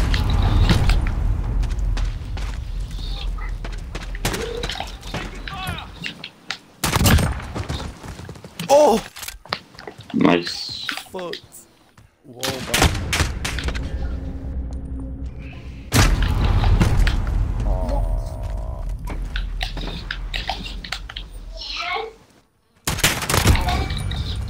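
Pistol fire in the video game Modern Warfare during a pistols-only 1v1v1 match: several sharp broadband shots in separate bursts, with gameplay sounds and occasional talking between them.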